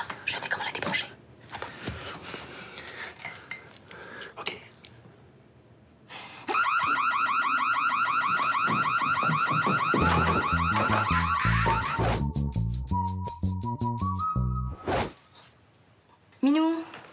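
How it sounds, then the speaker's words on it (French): A Playmobil toy alarm goes off loudly with a repeating electronic warble and beeping pattern that changes tone partway, cuts out, then briefly returns; whispered voices and rustling come before it. "il a mis son alarme Playmobil."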